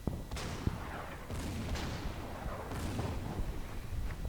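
Heavy artillery fire in a World War II strategy game, Blitzkrieg, with repeated booming shots and blasts rolling over a continuous noisy battle background at moderate level, no talk.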